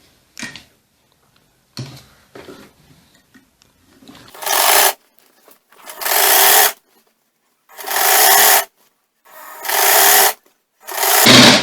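A sewing machine stitches a bustier blouse in five long, loud bursts that grow more even toward the end, each run separated by short pauses with soft handling sounds, and no voices.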